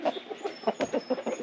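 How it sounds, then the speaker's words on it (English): An American Breese rooster gives a close, steady run of short clucking calls in a quick, even rhythm, with no talking. "Here's my second rooster of choice that made the call."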